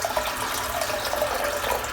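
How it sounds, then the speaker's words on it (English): Tap water runs steadily into a bathroom sink during a wet shave, a continuous broadband rush with no talk over it. "Need some water in the sink now."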